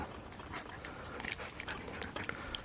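A dog laps water outdoors in a field during a hunting outing, with quiet, irregular wet lapping and splashing sounds close by against a faint background hiss.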